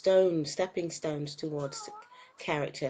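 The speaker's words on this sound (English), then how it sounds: "The cat wants to go out, if you can hear him meowing." A cat meows repeatedly to be let out, its drawn-out, wavering cries rising and falling close by, overlapping a man's quiet speech.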